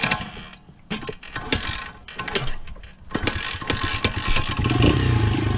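Dirt bike engine running and pulling away as the clutch engages, a close, continuous mechanical clatter and rumble that grows steadily louder toward the end.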